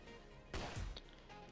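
A single gunshot fired at an enemy in a video game, a short punchy blast with a brief low tail, set against quiet game ambience; no talk.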